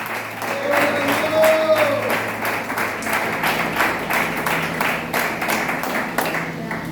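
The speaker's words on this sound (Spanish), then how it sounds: "Aplaudan, Señor Antonio. Apláudale." A church congregation applauds during a service, a full continuous wash of clapping from many hands, with voices and a brief tone mixed in beneath.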